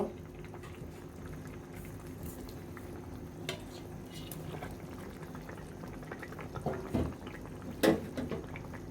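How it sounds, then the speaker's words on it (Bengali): A thin fish curry with ridge gourd comes to a boil in a pot, with steady bubbling and simmering, a few metallic clinks of a utensil against the pot, and a louder clatter near the end. "দেখুন আমাদের তরকারিতে বলক চলে আসছে"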